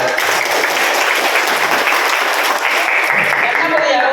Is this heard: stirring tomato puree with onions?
no